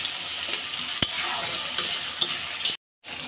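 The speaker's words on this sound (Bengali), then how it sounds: "কিছুক্ষণ মশলাটা কষিয়ে নিচ্ছি।" Spice paste with chopped tomato and slit green chilies fries in a pan, making a steady close sizzle broken by a few stirring knocks, then cutting briefly to silence before resuming.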